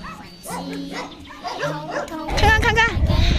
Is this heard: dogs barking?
yes